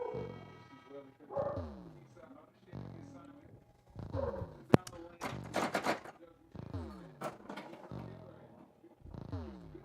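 Pet dogs barking upstairs in a house, heard as irregular muffled barks mixed under close talk and pinball machine sounds.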